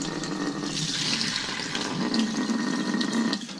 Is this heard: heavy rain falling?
no